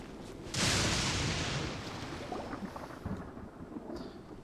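A thunderclap bursts loudly in a Genshin Impact storm, then rolls and rumbles on over steady heavy rain for several seconds without any voices.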